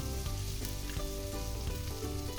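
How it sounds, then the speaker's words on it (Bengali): Small puti fish seasoned with turmeric and salt sizzle in a hot pan with a dense, continuous hiss and some stirring, close by and loud, with no voices. "এটা কিছুক্ষণ নাড়াচাড়া করে ভেজে নিয়ে"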